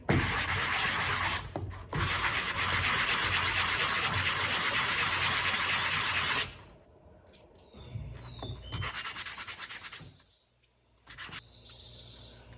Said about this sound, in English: I'm going to use a sanding block to get all this old sealant off